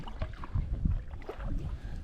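Canoe paddle strokes using a J stroke on a Polk County, Wisconsin waterway, giving soft splashes and swishes of water close by in an uneven rhythm over about two seconds.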